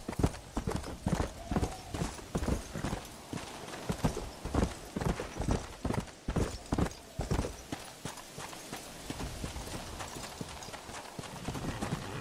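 Zombie horse in Red Dead Redemption: Undead Nightmare trots along, its hooves clip-clopping in a steady, fairly close rhythm that thins out toward the end over a low game background.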